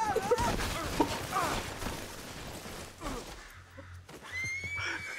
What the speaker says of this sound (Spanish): tengo un caballo mágico